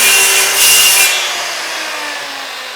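A saw blade running through the middle of a wooden half-lap joint in a woodworking shop, a loud continuous rasping cut that eases off toward the end.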